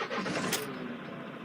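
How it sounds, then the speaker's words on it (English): A Majestic 196 motorhome engine cranks and fires up close by, a short starter whirr catching into a steady running engine that settles quickly, with no talk. "if I start the vehicle now"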